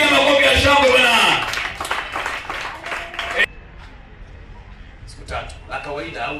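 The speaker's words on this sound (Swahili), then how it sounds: "Piga makofi ya shangwe bwana." Church congregation clapping and cheering during a Sunday healing service, a dense burst of applause and shouts for the first few seconds, then dropping to quieter room sound with scattered claps and voices.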